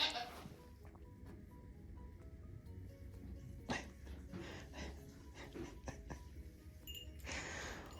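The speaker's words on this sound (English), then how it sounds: "2 minutes of petting baby goats." Baby goats bleat intermittently at a goat breeding farm, several short cries rising over a steady low farm hum, with a louder burst near the end.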